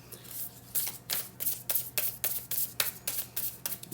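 A Moonology oracle card deck being shuffled by hand, close up: a quick series of crisp riffling bursts in an uneven rhythm, with no talking.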